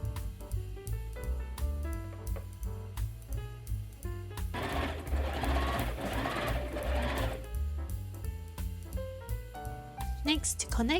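A sewing machine stitches the lining of a tweed jacket, shortening its stitch length at a sharp V point, with a steady mechanical whirr running throughout under background music.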